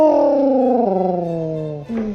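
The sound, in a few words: dog howling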